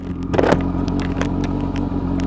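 Engine of a 2011 Kawasaki GTR1400 Concours motorcycle idling close by just after starting, a steady low hum with a brief clattering burst near the start and a few faint clicks.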